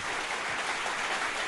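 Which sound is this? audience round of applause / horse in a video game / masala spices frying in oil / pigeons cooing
audience round of applause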